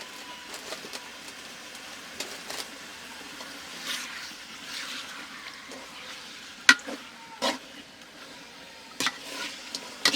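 Meat with turmeric stirs and fries in oil in a pan, a faint steady sizzle broken by occasional sharp clinks and scrapes of the spoon against the pan, with no talking.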